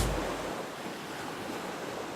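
Steady ocean surf washes continuously beside a seaside house built into a sand dune, a broad even rush with some wind noise, no voices.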